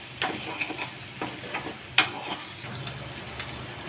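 Mutton frying in a pan with coriander and curry leaves, soft crackling sizzle with scattered ticks and stirring taps, close but fairly quiet, no talking.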